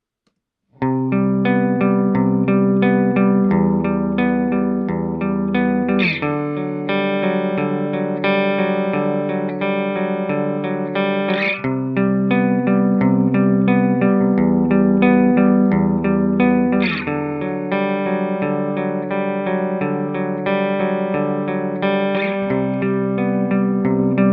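Electric guitar through an amp captured by two microphones, with the blend between them shifting: sustained, effects-laden chords ring out loud and steady, restruck every few seconds with a clear attack, no voices.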